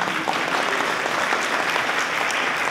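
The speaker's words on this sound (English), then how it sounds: "You can give a round of applause." An audience at an economic forum applauds in a dense, even wash of clapping that runs steadily throughout without any voices.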